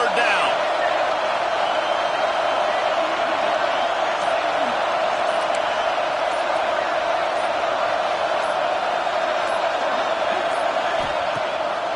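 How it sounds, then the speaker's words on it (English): A stadium crowd in an American football video game roars in a steady, loud, dense wash of cheering on third down, continuous throughout the stretch. "Decibels rising as the crowd gets behind this defense on 3rd down."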